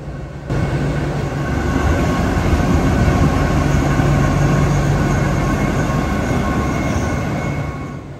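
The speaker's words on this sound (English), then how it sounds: "This locomotive is one of Thailand's premium passenger pullers." A Thai SRT six-axle diesel passenger locomotive running: a loud steady engine rumble with a low droning hum that swells up after a brief quieter start and holds without break.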